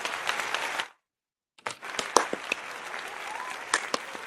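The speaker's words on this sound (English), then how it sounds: "I love the golf clap." Polite golf clap from a small podcast audience: soft, even applause breaks off into a short silence, then resumes with scattered distinct claps of moderate loudness.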